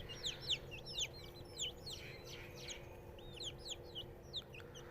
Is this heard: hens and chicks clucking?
yes